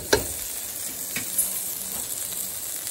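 Okra frying in hot oil for a Kerala-style vendakka fry, a steady close sizzle and crackle with a few brief louder pops, heard alone with no talking.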